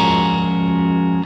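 Distorted electric guitar rings out one sustained bluesy chord, loud and steady with a thick effects-laden tone, for just over a second before it is cut off.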